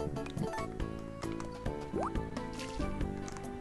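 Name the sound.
watering crops in Harvest Moon DS video game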